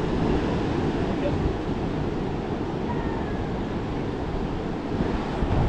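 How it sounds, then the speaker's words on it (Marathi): Sea surf at Guhagar beach rolls in a continuous broad wash, steady and fairly loud, mixed with wind buffeting the microphone. "हा आहे गुहागरचा समुद्र किनारा"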